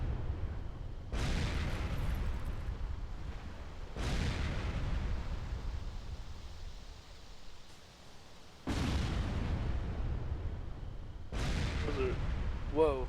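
Heavy artillery fire in a video game, with several loud booming blasts spaced a few seconds apart and long rumbling tails between them.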